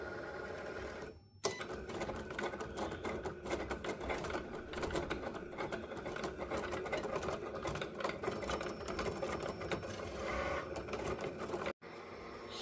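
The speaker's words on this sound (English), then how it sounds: "This is taking a bit of time to cut all of these out and print them." A Cricut machine printing and cutting sheets of custom temporary tattoo stickers runs steadily with a continuous whirring, rattling mechanical drone and rapid ticking, briefly cutting out near the start and again near the end.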